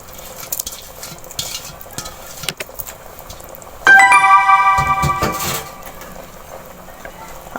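Aloo gosht curry is stirred in a pot with close, wet scraping and clattering of a spoon against metal, a brief ringing clang midway, and faint sizzling underneath.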